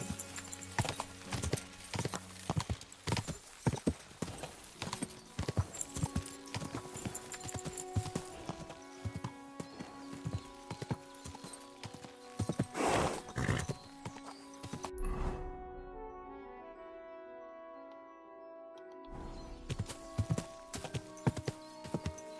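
Horse hooves clip-clopping at a steady gait with occasional whinnies in the video game Kingdom Come: Deliverance 2, mixed under in-game music and ambience, fairly faint overall.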